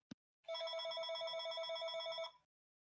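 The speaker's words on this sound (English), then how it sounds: "That is a loud fucking ringer." A landline telephone rings loudly, a single sustained electronic ring burst after a brief click, close and alone.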